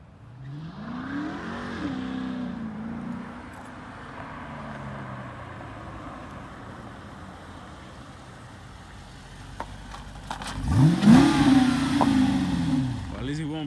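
Dodge Charger with a camber kit revving up for a burnout, engine climbing loud and close near the end after a quieter stretch of idling and background noise, with people talking over parts of it.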